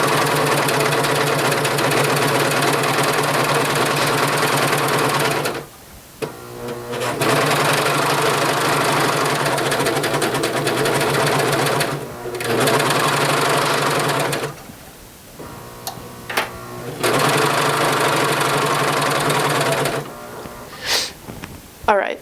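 A serger sewing machine stitches fabric for a T-shirt bag, running loud and close in long, steady bursts of rapid mechanical chatter, stopping briefly several times before starting up again.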